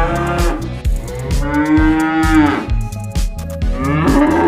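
Electronic mooing from a brown and green moving toy cow, a drawn-out synthetic moo repeated over a rhythmic mechanical clicking and whirring, loud and close.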